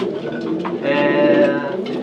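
Racing pigeons in a Polish loft coo loudly and close up, with one drawn-out, throaty call swelling in the middle over a low murmur of other birds.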